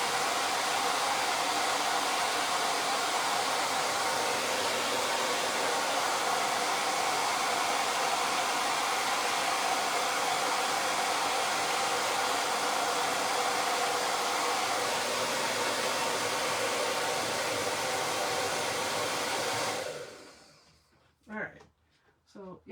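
Chalk Couture quick dry heat tool blowing continuously, a loud steady airy roar with a faint motor hum that holds for about twenty seconds before switching off, leaving a few brief knocks.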